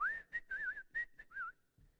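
Someone whistles a lilting melody in short phrases, close and clear, with gentle pitch wavers and brief pauses between notes, no talking.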